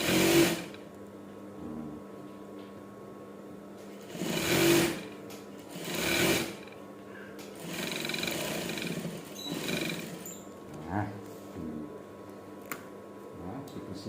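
Sewing machine stitching a batik shirt, close and fairly loud, running in several bursts of whirring, rapid needle ticks separated by short pauses and soft handling noises.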